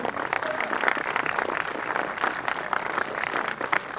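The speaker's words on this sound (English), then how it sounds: "Let's give them a round of applause." Audience applause at an outdoor groundbreaking ceremony for a community hub in White Center, a steady, dense patter of many hands clapping at moderate distance, sustained for the whole stretch with a faint murmur underneath.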